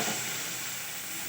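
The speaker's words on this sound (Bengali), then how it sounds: "এরপর আমি আমার পেঁয়াজের পেস্টটা এতে দিয়ে দিচ্ছি।" Onion paste hits hot oil already seasoned with turmeric while making a cauliflower roast, giving a loud, steady, close sizzle that fills the whole brief moment without any talk.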